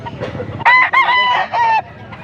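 A bulik stag gamecock crows once, loud and near, in Angeles, Pampanga. The crow comes as a few broken, rising calls over low murmuring in the background.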